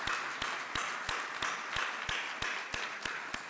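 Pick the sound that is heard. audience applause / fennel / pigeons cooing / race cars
audience applause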